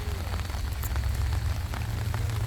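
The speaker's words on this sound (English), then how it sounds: "Oh, and it's pouring rain." Heavy rain pours steadily near a rail yard with trains passing, a dense continuous hiss with a deep rumble beneath, no one talking.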